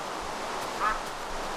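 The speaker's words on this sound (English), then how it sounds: "Hello, duck." A single short duck quack from the game Minecraft, brief and fairly clear over a steady bed of ambient background noise, with no talking.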